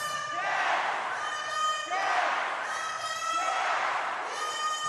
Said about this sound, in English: So they're yelling Belgian Cats.